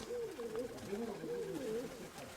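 Soft, repeated low cooing of a pigeon or dove rolls along in a steady rhythm, moderately close, against a quiet outdoor background.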